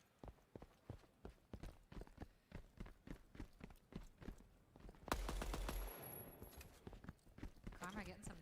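A DMR semi-automatic rifle in the Deadrop video game fires fast, evenly spaced shots in a steady rhythm, broken by one heavier blast near the end, with voices under the shooting.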